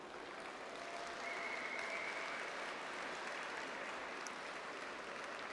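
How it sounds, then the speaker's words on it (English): Sustained, even applause from an audience at a welcome reception after a children's chorus performance, a dense wall of clapping that holds steady throughout without voices. "Why don't we give the children another big round of applause?"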